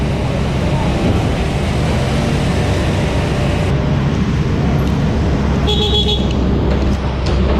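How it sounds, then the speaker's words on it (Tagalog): Stop-and-go road traffic near a drainage and flood-control construction site on the NLEX-SLEX connector road, a loud, continuous rumble of engines with short car horn toots, with people talking over it. "stop and go ang traffic"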